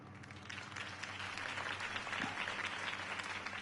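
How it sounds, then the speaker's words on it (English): Steady crowd applause from the video game Batman: The Telltale Series, a dense wash of clapping that holds evenly throughout, moderately distant with no talk over it. "could have heard that applause"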